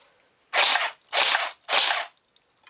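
A Cottonmouth KA-74 dual-power BB gun with a thin plastic body fires three sharp, loud shots in semi-auto, evenly spaced about half a second apart, each a crisp burst with a short hissing tail.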